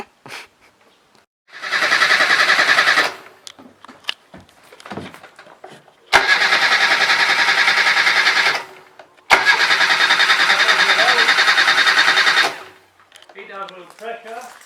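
An Asquith van's engine, started after sitting unused for a year, cranks and fires in three long loud bursts of churning and running, with short pauses and faint voices between attempts.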